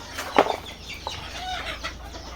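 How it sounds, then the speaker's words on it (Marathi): Free-range desi village hens on a poultry farm cluck in a few short, close bursts, with one sharper squawk early on and softer clucking trailing after, over a low background murmur. "आता इकडे आपल्या कोंबड्या आहेत"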